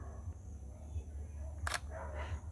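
A Nikon D3300 or Sony A6400 camera fires a single sharp shutter click during night moon photography, set against a low steady hum. Faint background sound follows the click.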